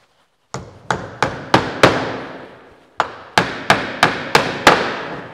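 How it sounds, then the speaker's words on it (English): A carpenter's cross pane hammer drives clout nails into a traditional timber window sash, giving ten sharp, ringing taps close up, in two quick bursts of five separated by a brief pause, with no talk. "For those of you who wondered why carpenters have cross pane hammers."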